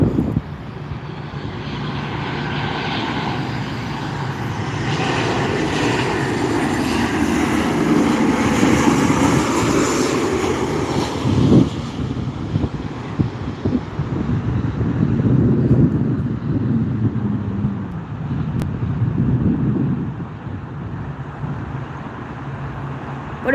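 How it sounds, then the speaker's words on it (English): A Southwest Boeing 737-700 from Sacramento lands at night, its engines roaring loud and close with a broad rushing wash and wind buffeting over nearly half a minute. "So enjoy the landing of the Southwest 737 from Sacramento."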